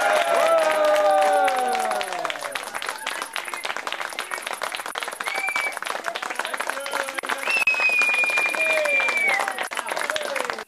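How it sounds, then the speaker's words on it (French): A family claps to celebrate grandparents' 60th wedding anniversary, with rapid, continuous hand claps running beneath lively voices and cheerful calls from the gathering. "il faut un petit applaudissement pour encourager"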